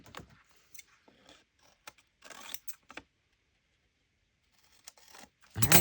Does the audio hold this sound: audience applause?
no